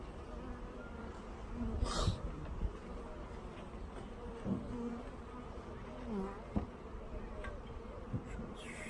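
A swarm of honeybees drones continuously up close as a package of bees is installed into a hive, a steady buzzing hum with brief louder flares and occasional handling clicks.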